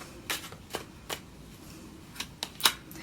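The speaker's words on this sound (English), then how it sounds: "I need 2 cards, please, for Leo." Tarot cards being shuffled by hand during a reading, with a handful of soft, close riffling flicks spaced irregularly, the last one the loudest, over faint room noise.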